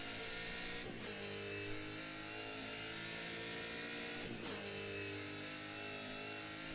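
A V8 supercar engine in Assetto Corsa, a 1990s race car, drones steadily at high revs throughout, loud and continuous, with two brief shifts in pitch along the way.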